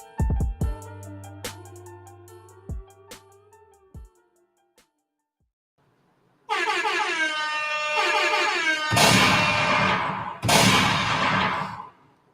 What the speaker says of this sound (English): Air horns.